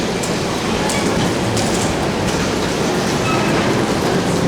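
Inside a train travelling from Germany into Switzerland, a loud, constant rumble of the carriage on the rails fills the space, with faint periodic clicks of wheels over track joints and no talking.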